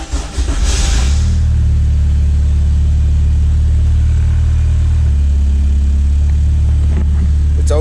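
A Honda CT70 minibike's small engine sputters to life after a burst of cranking, then settles into a loud, close, steady idle with a slight shift in tone near the end.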